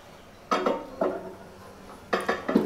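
A bowl of egg mix set inside a Samsung microwave oven gives a few close, sharp clinks and knocks of dish against surface, in two short clusters with no talking.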